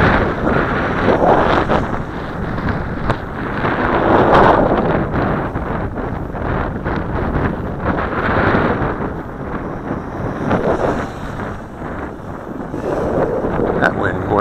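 Steady wind rushes and buffets against the microphone throughout while a Juncheng 3015-2 micro drone flies, with gusty swells and a constant low roar.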